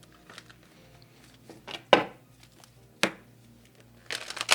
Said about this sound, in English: Let me give it one quick shuffle for group 2, please.